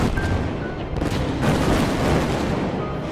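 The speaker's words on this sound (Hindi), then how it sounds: "नगोर्नो काराबाख में धमाके जारी हैं।" Booming explosions and gunfire from fighting in the Nagorno-Karabakh war rumble in a continuous, dense barrage with loud blasts and crackling shots, no voices heard.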